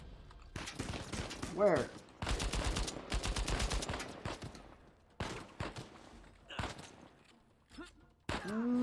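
Sniper and weapon fire in Uncharted 4 cracks out in sharp bursts and rapid volleys across the clip, loud and close, with a character shouting briefly between the shots.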